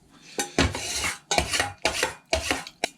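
A metal spoon scrapes and rasps against a pot of thick instant food boiled down to a scorched crust, coming in several close, loud bursts with short pauses between them.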